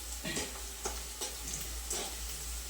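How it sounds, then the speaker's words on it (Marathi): Onions frying in a pan on a gas stove for puri bhaji, a steady close sizzle with soft rhythmic scrapes of stirring repeating roughly every half second over a low burner hum. "चला कांदा भाजला की दाखवतो."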